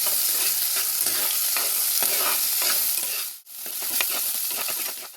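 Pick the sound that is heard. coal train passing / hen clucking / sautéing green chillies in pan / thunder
sautéing green chillies in pan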